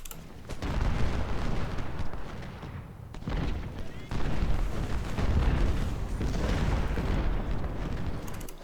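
Civil War artillery in Ultimate General Civil War thunders as a continuous, rolling barrage of booming cannon shots, dense and heavy, with a brief lull midway and a person talking over it.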